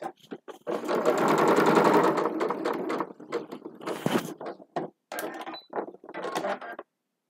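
Sewing machine running in short and longer bursts of rapid stitching, close and clear, stopping and restarting several times with brief pauses between runs.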